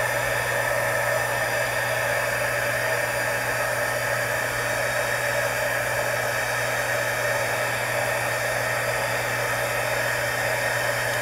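A heat tool blows a steady, loud, even hiss of air while melting embossing powder on a craft frame, continuous and unbroken throughout with a low hum beneath.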